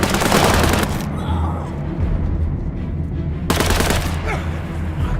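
Gunfire in War Mongrels, a World War II real-time tactics video game, comes as loud rattling bursts and booms at the start and again near the end, with quieter ambience between.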